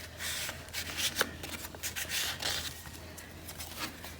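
Paper pages of a handmade scrapbook mini album flip over one after another, producing soft crisp rustles and quick flutters close by, with no voices.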